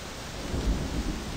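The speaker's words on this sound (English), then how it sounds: "I don't like this rain" Steady rain and low rumbling thunder in the video game My Summer Car, a constant wash of downpour with a deeper roll swelling near the middle, no voices.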